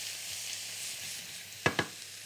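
Onion and crushed seafood shells stirred in a very hot pan for a French seafood stew, giving a steady broad sizzle with two sharp scrapes of the spoon near the end, no talking.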